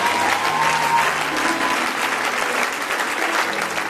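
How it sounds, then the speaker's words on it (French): A large church congregation at a worship service claps and cheers steadily, a dense, loud roar of applause filling the hall without pause. "C'est bien quand tu acclames comme ça là."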